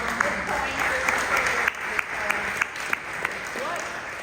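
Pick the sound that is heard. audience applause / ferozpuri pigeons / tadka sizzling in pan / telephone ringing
audience applause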